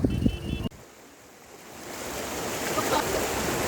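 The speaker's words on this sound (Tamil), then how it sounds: "மழை பெஞ்சு தண்ணி அப்படியே ஃப்ளோவாக வந்துக்கிட்டு இருக்குது" Rainwater runs in a stream beneath a small bridge on a rural road, a steady broadband rush that swells gradually after a short opening burst of talk and clatter.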